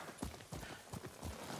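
Horse hooves clip-clop steadily at a riding pace in Ghost of Tsushima, a rhythmic run of muffled thuds with no talk over them.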